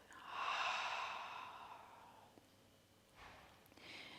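During a Hatha yoga breathing exercise, a long, airy exhale pushes out through the mouth, then fades. A second, shorter breath follows. It is close and soft, with no speech.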